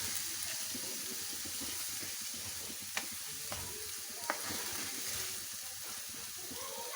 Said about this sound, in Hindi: इसमें ये मैंने प्याज डाल दिए। अब इनको हम थोड़ा सा इसको हम ब्राउन कलर देंगे।